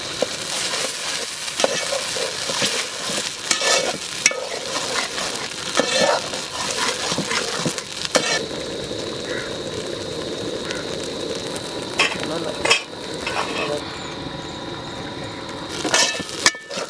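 Ground masala frying in hot oil in a village-style fish curry pot gives a steady close sizzle, with stirring scrapes and soft clatter through the clip and no voices.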